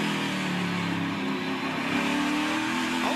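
Onboard a NASCAR stock car at Pocono, the engine revs and drones steadily at close range, a loud continuous mid-pitched roar with a slight rise near the end.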